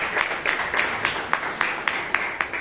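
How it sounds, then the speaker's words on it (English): Members at a Bangalore Toastmasters meeting applaud their president. The claps fall in a fairly regular rhythm with sharp repeated peaks, moderately close in a room. "Give the President a big round of applause."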